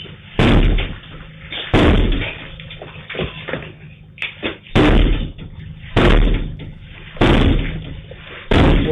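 Heavy, loud bangs strike a door in repeated bursts, about six hard pounding blows spaced a second or so apart, with rattling and scraping between them and no talk, during an attack in the war in Russia's Kursk region.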